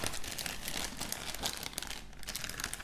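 A plastic sachet of Pokémon cards is crinkled and opened, giving a continuous, close rustling and crackling of thin plastic that rises in brief sharper bursts.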